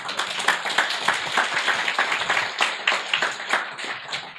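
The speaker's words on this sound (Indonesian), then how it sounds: "Aplaus untuk Anda semua." An audience at a seminar applauds together: dense, sustained clapping from many hands filling the room, loud and steady without a pause.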